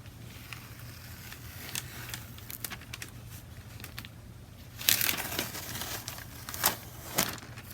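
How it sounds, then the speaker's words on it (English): A sheet of paper towel crinkles and rustles as it wipes paper during a cold wax transfer, soft close scratchy rubbing with a few louder crumpling bursts. "let me get a piece of paper towel and try to get this off without messing up the paper"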